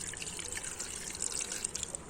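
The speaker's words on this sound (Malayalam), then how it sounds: "ഇളനീരിൻ്റെ വെള്ളം ഒഴിച്ചു കൊടുക്കട്ടോ" Tender coconut water poured into a blender jar for a shake gives a steady close trickle and splash of liquid for a couple of seconds, with no talk.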